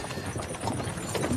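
Horse hooves clopping in the medieval video game Kingdom Come: Deliverance 2, a quick, busy patter of galloping steps heard faintly under a low background rumble.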